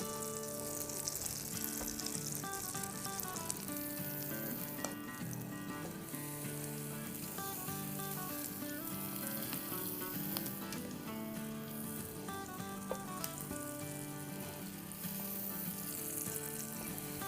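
Bread slices frying in melted butter in a pan on a stovetop, a steady close sizzle running throughout with faint clinks of utensils and a little background music, no talking.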